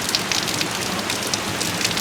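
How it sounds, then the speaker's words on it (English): Heavy storm rain in southwest Michigan pours down in a dense, even hiss, steady and close with scattered brighter drop spatters and no voices. "We're getting a good storm."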